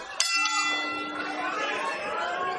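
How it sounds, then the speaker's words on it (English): A boxing ring bell rings once to start round 4 of a pro fight, a bright clang that rings out and fades over a busy arena crowd murmur. "The bell and round 4"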